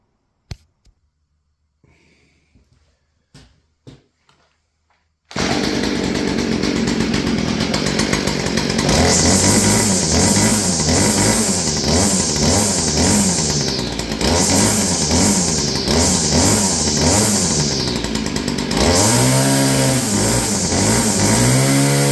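A Stihl FS 40 C grass trimmer's small two-stroke engine starts after a few quiet handling clicks, then runs loud and steady nearby, with repeated throttle revs rising and falling over about seventeen seconds.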